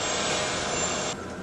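Airliner jet engines running at reduced power, about 70% thrust, captured on a flight recorder: a steady, loud broadband roar that drops slightly in level near the end, with no talk.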